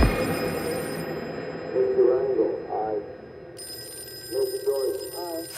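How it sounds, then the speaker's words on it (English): A telephone rings with repeated warbling bursts at mid volume. It plays against a background bed of music and sound effects. "Phone call"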